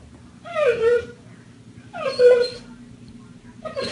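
A dog whines and howls in long, wavering, mournful cries, two drawn-out calls and the start of a third, close by over a faint low background hum.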